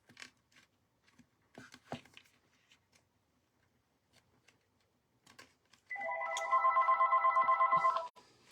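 A telephone rings with a loud, rapid warbling electronic trill lasting about two seconds, after scattered quiet tapping and handling sounds.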